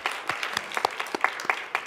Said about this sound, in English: Can I have another round of applause for the Black Saga Group students and our CMS